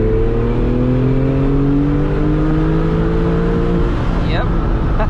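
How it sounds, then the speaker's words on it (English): A 2002 Porsche 996 Targa 911 drives with the windows down on a canyon road, its engine note rising steadily as it accelerates, loud and close inside the cabin with constant road and wind rumble. "Hear that exhaust note."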